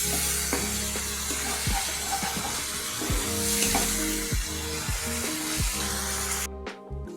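Poppy seed paste with royal garam masala and a splash of water sizzles steadily in a pan for stuffed pointed gourd, with repeated spatula stirs over background music.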